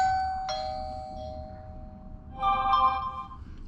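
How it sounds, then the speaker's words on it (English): A video doorbell chime sounds once with a steady tone, a second chime joins briefly, and a brighter chime follows a few seconds later, all at moderate level over a low background hum. "I'm going to ring the doorbell"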